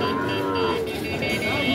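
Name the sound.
Sahiwal breed calves mooing at cattle market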